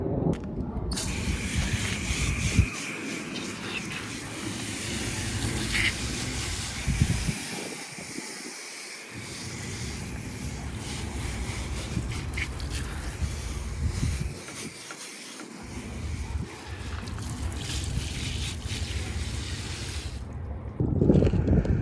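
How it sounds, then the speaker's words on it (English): Garden hose spray rinsing the coils of a residential AC unit outdoors in Arizona, a steady hissing wash of water running nearly the whole time with brief dips and shifts as the stream moves. "So let's go ahead and start rinsing everything out and get our AC unit prepared for the hot Arizona summer."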